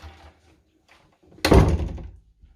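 A hotel room door in a lodge room is pushed open, making one loud thudding bang after a few quiet sounds of handling, then fading out.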